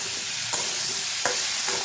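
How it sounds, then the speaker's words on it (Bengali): Steady sizzling of pumpkin frying in a pan, with a few sharp scrapes of a utensil stirring it, no voices. "খুব ভালো করে নাড়াচাড়া করে কুমড়োটাকে আরও ভাজা ভাজা করে নিতে হবে"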